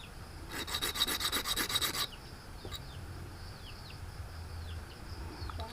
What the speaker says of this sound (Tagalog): Para magkaroon siya ng korte, hasain pa natin ng konti.